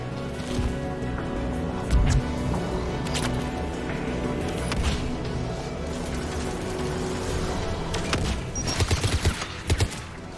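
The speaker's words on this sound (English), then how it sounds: "anti-aircraft guns" Anti-aircraft guns fire in sustained bursts in the Mass Effect 3 video game, a dense rattling barrage under a steady mechanical drone, with heavier thumping shots clustering near the end.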